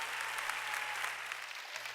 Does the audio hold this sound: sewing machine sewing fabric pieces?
no